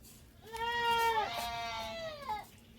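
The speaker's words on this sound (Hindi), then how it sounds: "ये तो बकरी है," Goats at a rural homestead near Srinagar give a long, wavering bleat that breaks into a second quivering call, fairly close and clear over a low background hum, with no one speaking.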